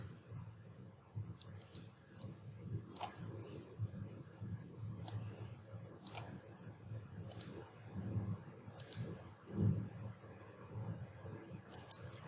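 A computer mouse clicks while sketching in Fusion 360 CAD software, sparse sharp single and double clicks spread over a faint room hum, quiet and close with no talking.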